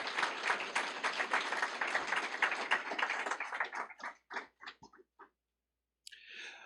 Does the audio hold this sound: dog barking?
no